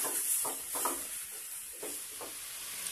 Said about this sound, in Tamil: கேரட் போட்டு நல்லா ஃப்ரை பண்ணிக்கலாம்